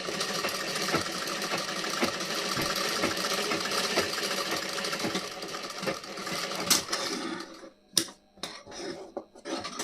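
Sewing machine stitching the back neckline of a blouse, running in a steady continuous whir for most of the time, then stopping and starting in short bursts near the end.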